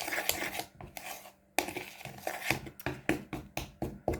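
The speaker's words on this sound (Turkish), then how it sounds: "Hemen şöyle güzelce şeker, un, kakao, kabartma tozu hepsi birbirine karışsın" A spoon stirs sugar, flour, cocoa and baking powder together in a cup for a mug cake, making rapid, close scraping and clinking strokes in a steady rhythm, with a brief pause partway through.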